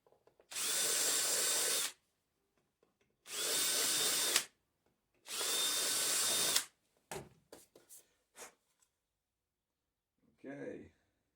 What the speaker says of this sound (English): I'm just drilling the backs of these